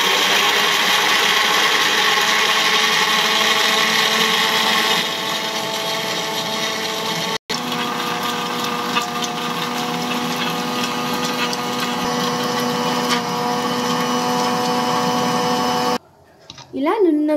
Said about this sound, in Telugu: వేయించుకున్న వాటిని మిక్సీకి పెట్టాలి